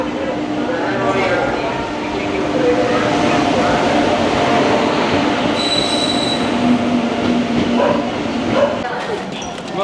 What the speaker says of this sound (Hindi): तो एक बार जब मेरी ट्रेन आती है तो मैं आपको दिखाता हूँ